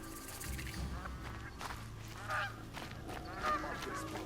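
Geese honk inside the video game Horizon Zero Dawn, scattered calls sounding over a steady low ambient rumble and clatter, moderately close with two louder honks standing out.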